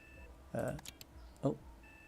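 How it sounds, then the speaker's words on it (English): A heart monitor in the space game Ostranauts beeps twice, short electronic tones about a second apart, over a faint steady hum. "A heart monitor beeps and then beeps again."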